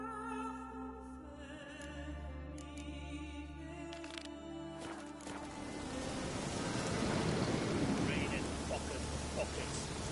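Heavy rain pours down in The Witcher 3, with thunder in the mix. Soft, tonal game music plays at first, then a broad rushing downpour swells and takes over, staying loud and steady to the end.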